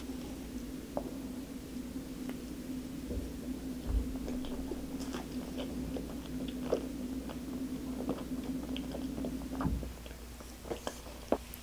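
Soft, close biting and chewing of a tangerine mochi cream roll filled with tangerine jam and Hallabong fruit pulp, with gentle moist squishes and occasional small clicks over a faint steady hum.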